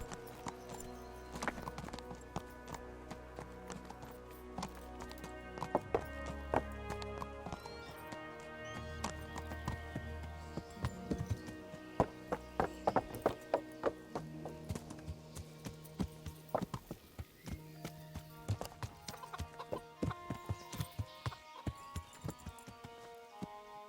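Rhythmic hoofbeats clip-clop along steadily over a musical backdrop, with an occasional whinny, horse effects in the video game Kingdom Come: Deliverance.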